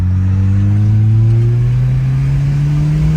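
A turbocharged Volvo 940 Turbo engine accelerates with a loud, steady drone whose pitch climbs smoothly as it revs up, heard close and alone.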